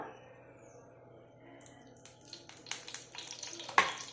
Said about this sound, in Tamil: இப்போ எண்ணெய் ஊற்றிக்கலாங்க